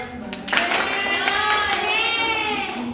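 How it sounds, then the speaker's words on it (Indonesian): Classroom applause from students in a mathematics lesson at an Islamic senior high school, a steady wash of hand clapping lasting the whole moment, with a voice and some chatter mixed in. "Oke, sebentar tepuk tangan."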